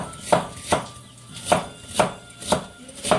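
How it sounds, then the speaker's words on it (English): A knife slicing an onion lengthwise on a cutting board for chicken stock, seven crisp, evenly spaced cuts landing about every half second, close and clear, with no talk. "Take the onion, slice lengthwise, not crosswise, lengthwise."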